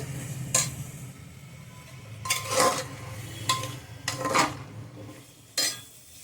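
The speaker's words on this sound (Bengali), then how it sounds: "আলুটাও দিয়ে দেব দিয়ে আমি এটা ভালো করে এর সাথে নাড়ব মশলাটার সাথে" A spoon scrapes and clanks around a frying pan as potatoes are stirred with spices, several distinct metallic strokes spaced a second or so apart over a faint background sizzle, close and fairly loud.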